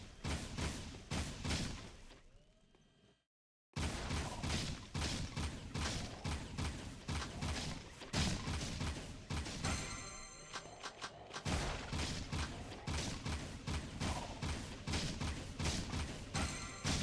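Shots fired in the Jak 2 video game, a dense, loud stream of rapid blasts and thumps that drops out briefly near the start and then continues steadily to the end.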